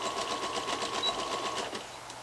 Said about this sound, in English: little bit of backward stitching